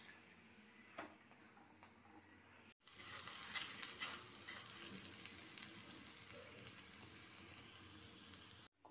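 Cauliflower-stuffed paratha fries in oil on a pan, a soft sizzle that grows into a steady, dense crackle with small pops after a quiet start, then cuts off abruptly near the end. No one speaks.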